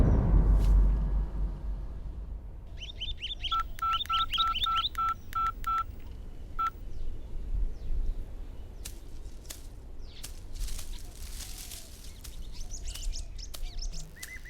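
A phone number is dialed as a quick run of evenly spaced keypad tones in a dubbed Bangla thriller, heard alone and fairly close against a quiet background with faint chirps.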